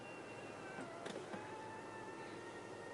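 An electric power seat in a 2020 Nissan Murano SV hums as it rises, a faint steady motor whine with a couple of soft clicks, close and quiet with no talking.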